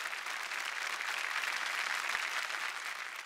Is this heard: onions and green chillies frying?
no